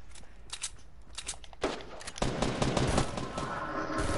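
Bursts of gunfire in a PS4 multiplayer shooter, fairly sparse at first, then turning into a denser, louder barrage of rapid shots over steady game noise.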